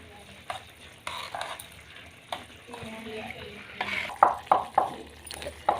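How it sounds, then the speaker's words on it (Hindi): A spoon stirs potato and yogurt chutney in a pot, giving soft scraping swirls followed by a run of sharp clinks against the pot near the end, close and moderately loud with no talk. "मैं घुमा रहा हूँ चम्मच"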